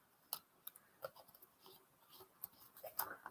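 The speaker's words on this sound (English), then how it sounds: "start taping it together." Tape being pulled and pressed while a handmade get well card is assembled, scattered sharp crackles and ticks at irregular intervals over a soft background hiss, close and fairly quiet.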